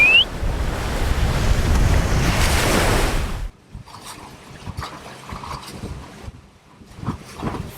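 Ocean swell and surf wash loudly at a boat anchorage during the first few seconds, with wind buffeting the microphone, then the roar drops away to quieter, intermittent water sloshing and knocks nearby.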